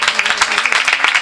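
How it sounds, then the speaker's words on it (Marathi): An audience at a Marathi kirtan claps together in a quick, dense patter of hand claps, fairly loud and close, with no talk over it. "टाळ्या एकदा वाजवा यांच्यासाठी."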